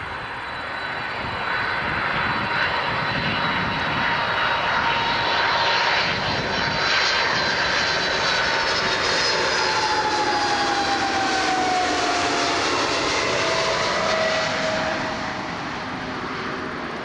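An Air Transat Airbus A310 jet passes with a loud, sustained engine roar and whining tones that slide downward as it goes by at Toronto Pearson, filling the whole stretch with no talk.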